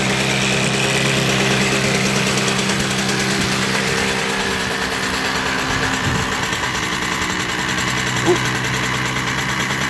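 A 2006 Tomos Streetmate 50cc moped engine idles in the cold at minus 15 degrees, a steady close buzzing drone with slight knocking and vibration, running continuously throughout.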